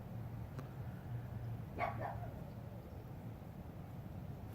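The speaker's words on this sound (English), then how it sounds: "I'll be right back so my pug stops barking" A pug barks once or twice, faint and somewhat distant in an indoor room, over a low steady background hum.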